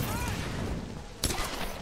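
Gunfire in the Tomb Raider video game comes as a dense, noisy burst, with a sharper shot hitting near the end of the brief stretch.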